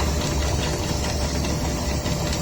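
An air handling unit motor runs on a worn belt, giving a constant loud hum with a steady tonal whine and dense mechanical noise throughout, with no voices.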